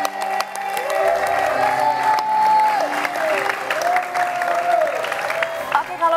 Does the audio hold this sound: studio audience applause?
yes